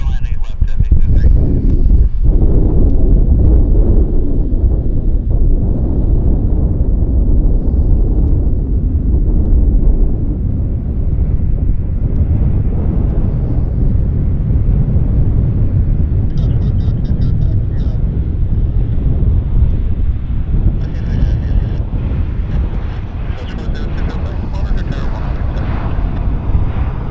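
A WestJet Boeing 737 lands at Vancouver airport, its loud, broad engine roar and wind rush holding steady throughout, with voices talking under it.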